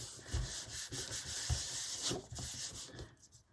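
Paper is rubbed by hand onto a gelli printing plate in a steady scratchy back-and-forth rhythm of soft brushing strokes, close and fairly quiet, with no voices.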